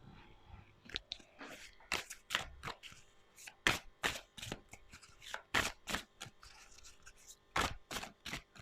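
Tarot cards being shuffled and drawn make a run of crisp, papery riffles and snaps in quick irregular bursts, close and fairly quiet, with no talking.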